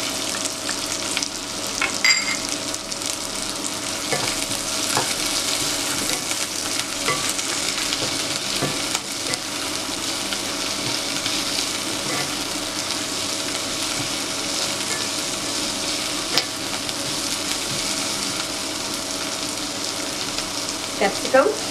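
Onion and spring onion stir-frying in a pan for restaurant-style gobi manchurian, a loud, steady sizzle running throughout with occasional scrapes of the spatula stirring.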